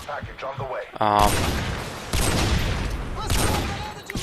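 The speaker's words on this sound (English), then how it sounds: "And in M16, probably the best burst fire gun in over the Call of Duty games." M16 burst-fire gunshots in Call of Duty: Modern Warfare 2 crackle in loud, dense volleys that fill most of the moment, with a voice talking briefly just before the shooting starts.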